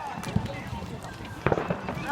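Fireworks going off outdoors on bonfire night near a bonfire, with a couple of sharp bangs and crackles, one early and a louder cluster later, heard amid people talking and music.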